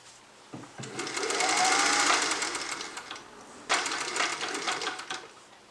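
Sewing machine stitching the outer fabric of a waistcoat made from a pillowcase, two steady runs of rapid mechanical clatter separated by a brief pause, close and moderately loud.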